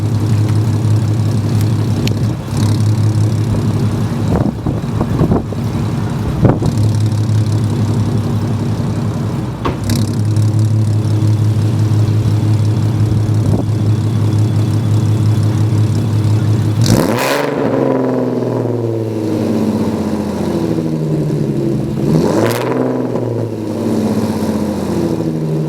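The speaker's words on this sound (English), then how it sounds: "I'll rev it up and show you guys how it sounds." A 2010 Chevrolet Camaro V6 with straight pipes, long-tube headers and a muffler delete idles loud and raspy from about fifteen feet away, then revs hard in sharp bursts that rise and fall.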